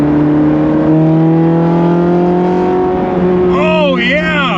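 Ferrari Cinque Valvoli five-valve V8, a continuation of the 355 engine, revs hard from inside the car with a steady strong harmonic drone that swoops up and down near the end, under excited speech.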